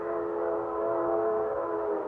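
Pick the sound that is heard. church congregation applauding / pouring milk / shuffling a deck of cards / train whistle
train whistle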